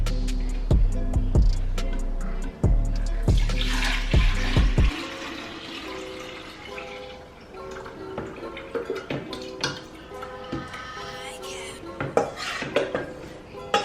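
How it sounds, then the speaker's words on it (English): Homemade horchata mixture poured from a container back into a pitcher, with a run of clinks and knocks against the vessels, then a softer splashing pour and scattered taps of dishware close by. "I'm gonna go ahead and pour this mixture back in this pitcher."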